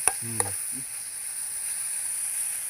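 Soybean curry stirred in a pan gives a steady, fairly quiet sizzle, with two sharp scraping clicks near the start and a brief low voice murmuring underneath.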